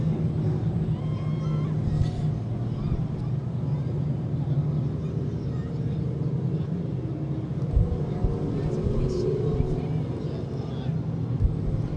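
Pro stock race cars lapping Seekonk Speedway on opening day in 2008, a continuous low engine roar and rumble that holds steady with no clear pass-by peaks.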